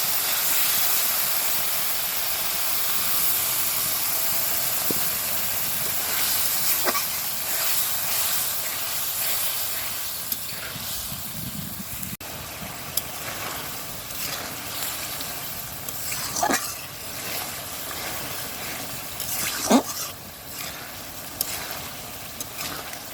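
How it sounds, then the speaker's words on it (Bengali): A curry of pre-fried pointed gourd and potato with green chilies sizzles as it is sautéed, a steady broad hiss up close with occasional sharp clinks and scrapes from stirring. "তো আমি এখন তরকারিটা ভালো মতো কষিয়ে নেব।"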